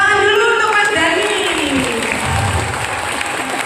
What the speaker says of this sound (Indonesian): tepuk tangan dulu untuk Mas Dhani